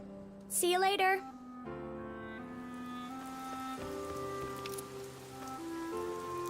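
Rain falls in the farming game Harvestella, a steady soft patter running throughout with game music tones layered over it, after a brief loud chirpy burst near the start.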